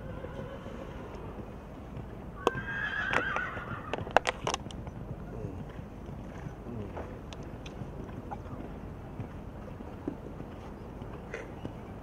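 A horse whinnies once, a rising and falling neigh at moderate distance, heard among faint background chatter and scattered clicks in an otherwise steady outdoor ambience.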